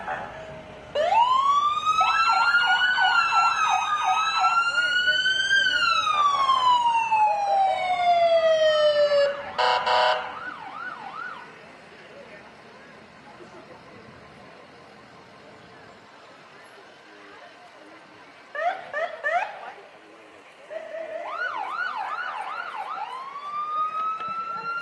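Ambulance siren from the Cannon Falls Ambulance Service rolling through a 4th of July parade, a loud rising and falling wail for several seconds, then short whoops and yelps over street crowd noise with a voice talking.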